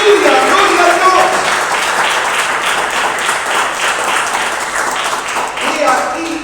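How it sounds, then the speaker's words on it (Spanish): Church congregation breaks into loud, sustained applause during a sermon, dense clapping filling the whole stretch while a voice talks and calls out over it. "en esta noche un fuerte aplauso a la palabra de Dios."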